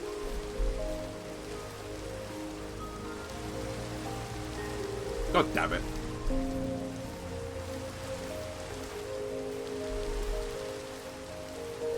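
Steady rain falls in the video game Minecraft, a constant hiss with low rumble throughout, and a person briefly mutters an exclamation over it partway through.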